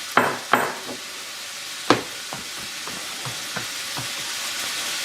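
Pork sausage fries in a pan beside salted eggplant slices, with a steady soft sizzle under scattered sharp pops and crackles, close and moderately quiet.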